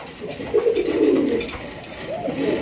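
Pigeons for sale at a market give low, rolling coos up close, one long swelling call followed by another.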